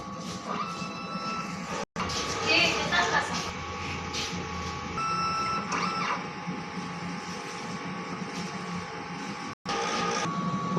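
A DTF printer runs a print head cleaning cycle, a steady mechanical whir with pump and carriage sounds, briefly cut twice, close by.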